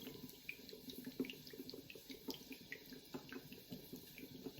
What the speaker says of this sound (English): And then I'm going to slowly pour the oil in.